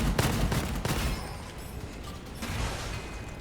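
Rapid gunfire from the shooter game Gunfire Reborn crackles in quick bursts, loud and sharp at first, then fades into mechanical clatter and whooshing effects before a few more shots near the end.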